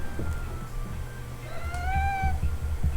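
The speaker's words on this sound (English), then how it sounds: "Yes, there is Cat." A cat gives a single clear, drawn-out meow close by, rising then falling, over a low background hum.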